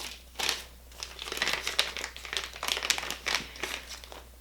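Plastic packaging torn open and crinkled by hand, a close, steady run of crackling rustles with sharper snaps throughout, no voices over it.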